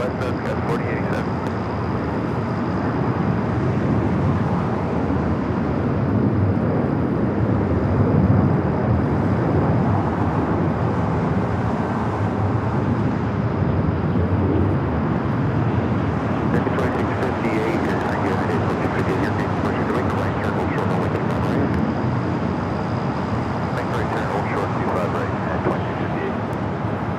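An airliner taxiing at Los Angeles airport at night, a continuous broad jet-engine rumble and whine from a distance, steady throughout, with a voice talking over it.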